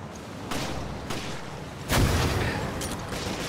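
Heavy weapon blasts in Resident Evil: Revelations during a final boss fight, several booming shots spaced over a few seconds, with the loudest, fullest rocket launcher burst near the middle.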